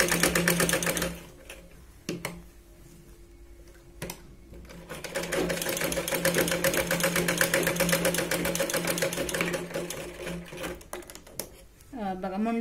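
A sewing machine stitches a blouse shoulder seam in short steady runs, close and fairly loud, pausing briefly between bursts while someone talks over and between them.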